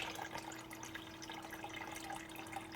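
Water pours back into a home aquarium tank in a steady, soft trickle, faint and continuous with no talking.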